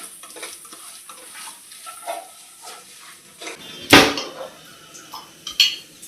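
Onions tipped into a hot pan with fried lentils and spices and stirred, with metal scraping, clanks and a soft sizzle, one sharp loud clatter midway, no talking.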